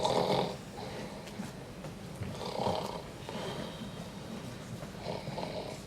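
Rhythmic snoring, each breath a rough rumbling rasp repeating at a slow steady pace, close by and moderately loud with no talking.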